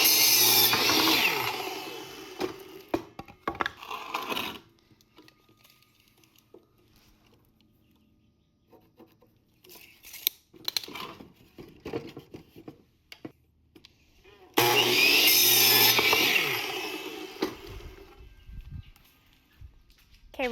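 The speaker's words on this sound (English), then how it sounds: "I'm going to cut two 24-inch sections, one for the top, one for the bottom" A power saw whines loudly through 2x4 lumber in two separate long cuts, with quieter clattering and handling noises in between.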